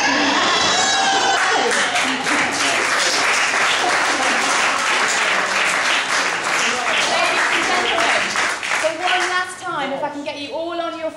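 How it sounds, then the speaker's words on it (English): Wedding guests applaud loudly as a newly married couple leaves the room, a dense sustained clapping with cheers and shouts that thins toward the end. "give a great big round of applause"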